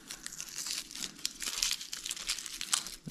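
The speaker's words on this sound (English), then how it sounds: "So easy to peel the onion when it's like this." Dry onion skin crackles and crinkles as it is peeled away by hand, a close, continuous papery rustle with small tearing bursts and no talking.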